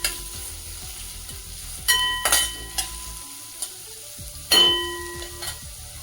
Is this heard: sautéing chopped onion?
yes